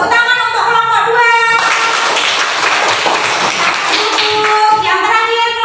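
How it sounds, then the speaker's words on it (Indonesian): Classroom applause for a student group after a discussion presentation, a dense burst of clapping from about 1.5 to 4 seconds, loud and close, with talk before and after. "Tepuk tangan untuk kelompok 2."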